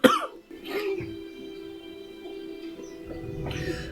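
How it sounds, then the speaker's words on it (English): An anime character in Hunter x Hunter coughs and clears his throat, a sharp cough at the start and more near the end, over a steady low background music drone. "Well, he's coughing now."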